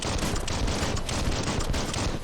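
Explosion and rapid gunfire from the video game Biomutant, a dense, continuous barrage of blasts and shots that fills the whole stretch loudly with no pause.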